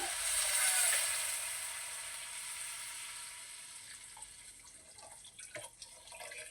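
Water pours into a cooking pan of red rice flakes upma with a hissing rush that fades, followed by a few faint drips and light clinks.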